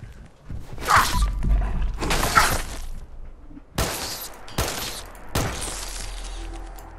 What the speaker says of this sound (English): You guys can see I'm burning through ammo really fast here on this, the 38 ammo.